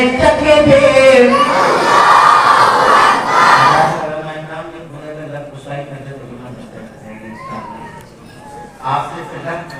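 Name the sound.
crowd shouting Allahu Akbar in response to takbir call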